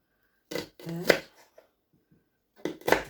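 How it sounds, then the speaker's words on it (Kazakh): A knife chops an onion on a cutting board in a few quick bursts of cuts, with pauses of near silence between them. "Жуаны да қазір көрейік турап."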